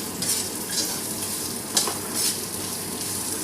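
Ingredients for a Salem-style traditional fish gravy sizzle steadily in a hot pan. A spoon scrapes and clinks against the pan several times as the mixture is stirred, with no talking.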